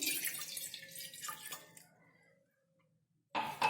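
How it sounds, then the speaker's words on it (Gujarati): Water runs and splashes into a metal pot on a gas stove for a couple of seconds, about a glass of water, then trails off into quiet before a brief burst of noise. "તેની અંદર એક ગ્લાસ જેટલું પાણી એડ કરીશું"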